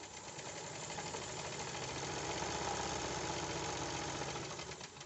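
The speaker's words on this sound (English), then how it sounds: "I'll bring down my presser foot and sew." A sewing machine stitches a straight line while making a buttonhole without a buttonhole foot, giving a continuous fast mechanical whir and rapid needle chatter, close and steady throughout without speech.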